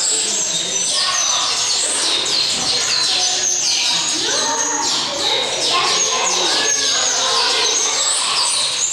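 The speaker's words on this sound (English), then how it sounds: "But now there's a bird room, so I'm not sure, but lots of birds." Many birds chirp and tweet together in a dense, continuous chorus inside a zoo aviary, with a few voices talking underneath.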